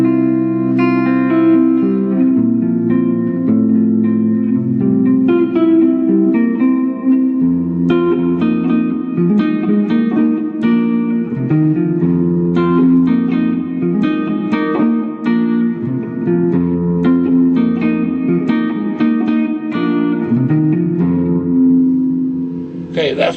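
Electric guitar played through a Vox Night Train amp with reverb, sustained chords and ringing notes flowing continuously and loudly, with a roomy reverberant tail and no talk.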